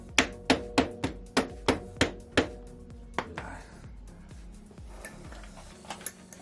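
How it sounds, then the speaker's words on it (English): A rubber hammer gently taps a Kouba lowering link into place on a KTM 690 Enduro R motorcycle: about eight evenly spaced, crisp knocks, followed by a few softer, scattered taps and light handling noises. "just gently tap it here with a rubber hammer or something that doesn't make damage to anything"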